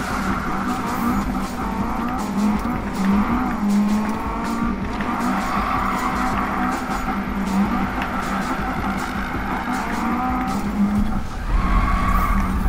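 A front-wheel-drive Acura RSX-R drift car in Need for Speed 2015 squeals its tires while sliding sideways, engine droning steadily underneath as the skids rise and fall throughout.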